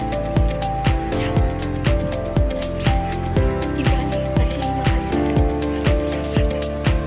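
Crickets on a cricket farm chirp in a dense, continuous high trill, with a regular pulsing rhythm sitting over other steady background sound throughout.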